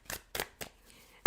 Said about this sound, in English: And while I am shuffling,